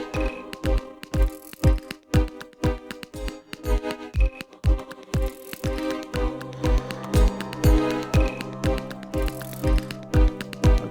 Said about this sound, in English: Let's have a listen to the amplitude modulation.